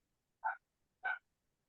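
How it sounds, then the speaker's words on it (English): A dog gives two short barks from a distance, about half a second apart, faint and alone with no talk over them. "she's got a dog in the background"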